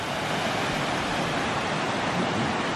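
A creek flows steadily below the High Falls at Cheaha, Alabama, a dense, even rush of water that holds at one level throughout with no voices.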